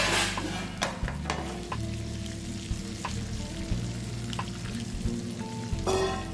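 Salmon fillets sizzle and fry in a pan with butter, garlic, parsley and lemon juice, a steady close crackle broken by occasional stirring or basting scrapes, no voices.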